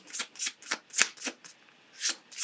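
Tarot cards shuffled by hand, a run of soft riffling bursts in an uneven rhythm, close and clear with no talking.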